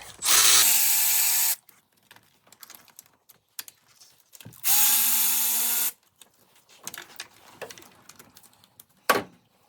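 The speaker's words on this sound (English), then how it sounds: "there are 5 T30s holding the upper timing cover on, so we just crack all those off" A power tool driving T30 Torx bolts loose on the upper timing cover of a VW EA888 engine during a cam carrier reseal, two loud sustained whirring bursts, then lighter clinks and rattles of parts, with no talk.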